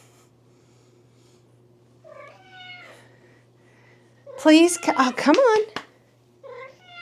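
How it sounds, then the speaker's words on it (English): An old male cat meows several times, one loud drawn-out meow in the middle and softer ones before and after, close by, with someone speaking between the calls. "Hi, kitty cat."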